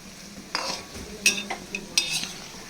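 Jackfruit pakoras frying in hot oil while being stirred, a soft sizzle under several sharp scraping and clinking strokes of a utensil against the pan, spaced about half a second apart, close and without talk.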